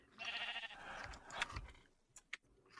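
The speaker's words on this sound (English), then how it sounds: "Do you have to make sheep noises along with them?" Sheep bleat in a FNAF Management Wanted game, with a wavering, nasal bleat near the start, then a few shorter sharp calls trailing off toward the end.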